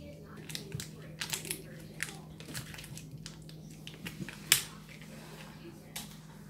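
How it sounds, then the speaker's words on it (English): An ice cream package being opened by hand, with sharp crinkly snaps and rustles of wrapping in short bursts, one louder crackle standing out, all close and fairly quiet against a steady low household hum. "open the ice cream"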